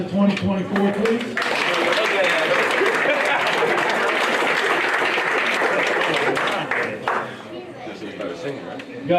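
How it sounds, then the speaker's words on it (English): Banquet guests at a Hall of Fame ceremony break into sustained applause for the inductee class, a thick wash of clapping with crowd chatter that tapers off near the end. "And then one last round of applause for the class of 2024"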